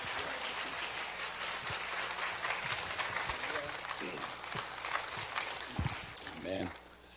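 A church congregation applauds as a missionary comes forward, with a steady wash of clapping from many hands heard under an amplified voice speaking over it.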